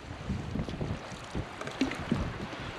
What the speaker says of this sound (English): We're under sail, and it's working really well.